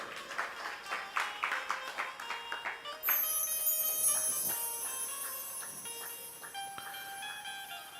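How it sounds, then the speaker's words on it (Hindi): Scattered audience clapping during a Hindi religious discourse, rhythmic hand claps in the first seconds, then sustained bell-like musical tones and a bright shimmer take over at moderate, fairly distant volume. "तो मरी मराई तालियां मत बजाया करो"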